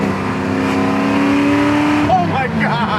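Engine roar of a 1969 Chevy Camaro with a loud aftermarket exhaust, pulling hard in fourth gear, the tone climbing steadily and then breaking off, with brief talking at the end.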